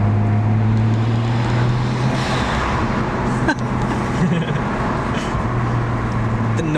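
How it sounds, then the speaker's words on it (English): Low, steady engine drone from a car, with an even hum that pulses now and then, heard close under a murmur of background voices. "The noises that come out of this car are just so satisfying"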